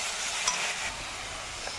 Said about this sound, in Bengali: দিয়ে এখন আর একটু কষিয়ে নেব।